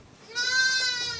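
A single newborn lamb, two days old, lets out one short, clear, high-pitched bleat close to the listener.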